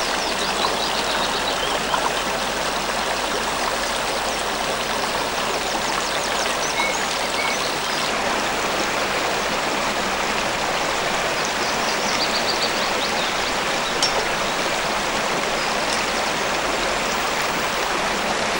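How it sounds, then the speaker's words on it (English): A small stream of lake water runs through an Exmoor valley toward the river Barle, a steady broadband babble and rush that is close and continuous, with no voices. "This little stream is a stream of lake water, and it leads out through the valley to the river Barle."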